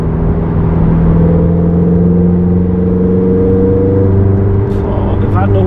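Ferrari 488 GTB engine under throttle at about 140 km/h on a test drive: a loud, steady, layered drone with strong harmonic tones that climbs slightly in pitch, heard from inside the car.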